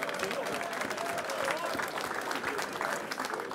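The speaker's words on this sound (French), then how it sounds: "Ouais, vas-y pas à moitié, applaudis bien." A crowd claps and cheers at a French rap battle, continuous applause throughout with voices talking and shouting over it.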